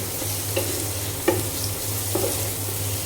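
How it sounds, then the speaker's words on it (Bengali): Onions frying in the oil left over from frying eggs, with a close, steady sizzle and a few sharp spatula stirs and taps against the pan, no voices. "আর এখানে ওই তেলের মধ্যে পেঁয়াজ দিয়ে দিয়েছি।"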